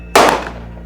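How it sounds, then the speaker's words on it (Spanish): A single sharp, loud pistol shot cracks out from undergrowth, followed by a fading echo that trails off. "sonó un pistoletazo entre la maleza"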